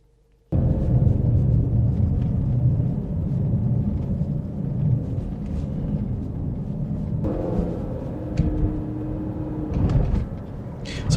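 Inside a moving 80 Series 4x4 with the windows closed, a steady low road rumble and drone fills the cabin loudly and continuously, with faint rattles and a slight shift in tone partway through.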